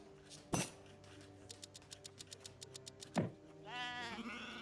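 Sheep bleat in Age of Empires 3, with a sharp click and quick ticking taps leading into a wavering bleat near the end, all fairly faint.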